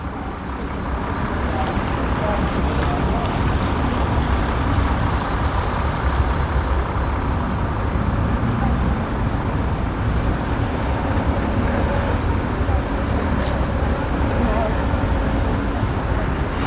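A tram pulls into a busy transit hub in Hungary, its steady rumble mixed with broad road traffic noise that stays fairly loud and even throughout, with a brief brake hiss near the middle.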